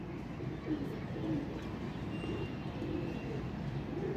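Pigeons coo softly in a repeating low warble, fairly faint and steady against a background hum.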